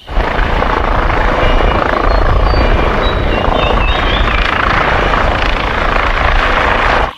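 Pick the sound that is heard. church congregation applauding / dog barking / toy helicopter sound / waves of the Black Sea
toy helicopter sound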